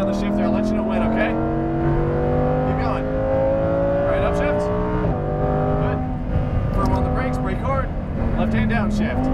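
Lamborghini Huracan Performante on a racetrack in Las Vegas, its engine pulling hard at full throttle with rising pitch through the gears and a shift midway, loud and close, with an instructor talking over it.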